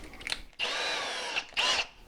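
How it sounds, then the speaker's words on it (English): Power drill boring a 3/16-inch pilot hole into a wall stud while mounting an over-the-range microwave: two loud close whirring bursts, a longer one then a shorter one, separated by a brief pause. "we're going to drill a 3/16 hole, just pre-drilled into the stud"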